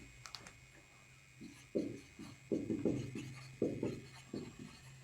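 Marker or chalk writing on a board in a physics class, heard as a series of short scraping strokes in quick bursts, moderately close and fairly quiet, with no talking.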